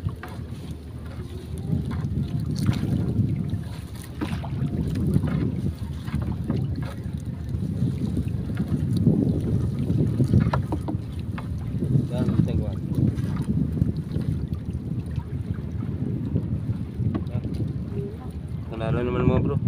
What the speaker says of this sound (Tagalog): Dahan na sagwan, dahan lang.